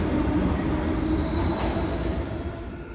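A Sydney Trains service arrives at a platform at Redfern Station, with a continuous rumble of rolling wheels and a thin, high wheel squeal rising toward the end, heard fairly close with no talking.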